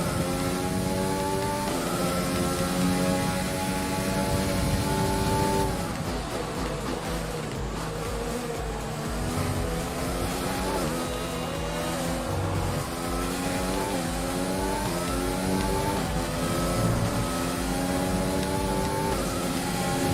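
Opponent's race car engine in a multiplayer racing video game, a continuous revving whine that rises and falls as gears shift, loud and steady throughout with no talking.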